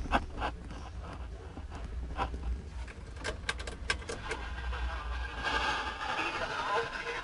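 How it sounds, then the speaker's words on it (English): Crackling, hissing static comes from a car radio speaker in a Charger with faulty speaker wiring, steady and broadband with scattered pops and clicks, growing slightly rougher toward the end. "There's static."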